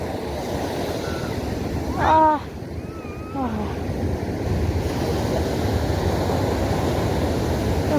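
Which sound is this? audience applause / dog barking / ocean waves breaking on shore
ocean waves breaking on shore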